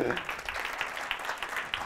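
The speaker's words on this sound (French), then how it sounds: "Bravo, je crois qu'on peut applaudir aussi." Moderate applause from a conference audience, a run of quick claps at a fairly even rhythm, somewhat distant and not very loud.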